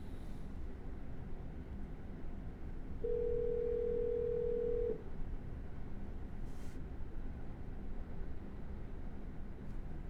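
A phone line rings once with a steady electronic tone lasting about two seconds while calling a seller, set against a low background hiss.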